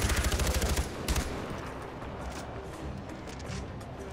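Rapid automatic gunfire from Far Cry 4 rattles in a quick burst at the start, followed by a single shot and then a lingering noisy rumble of the game's ambience.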